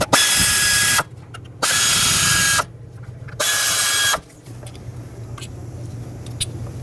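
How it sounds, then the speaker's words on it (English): A power tool with a 10mm socket spins out ignition coil bolts on a 2010-2015 Lexus RX350 engine, three loud close whirring bursts of about a second each separated by short pauses, then quiet shop ambience. "Use a 10mm socket, remove all the bolts that hold these ignition coils down."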